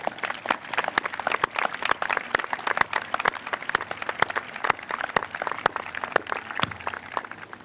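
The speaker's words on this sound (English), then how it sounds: "I think we really need to give our parents a round of applause." Graduation audience at a 2021 high school ceremony applauding the parents, a crowd clapping continuously with sharp individual claps standing out from the broader applause.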